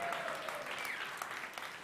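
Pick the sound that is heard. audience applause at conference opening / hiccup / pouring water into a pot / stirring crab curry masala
audience applause at conference opening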